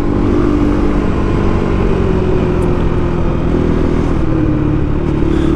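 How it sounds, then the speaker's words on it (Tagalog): Rusi KRY 200 motorcycle engine running steadily up close, a continuous loud throbbing idle with a mechanical clatter and no voices. "ito po yung motor ng Rusi KRY 200."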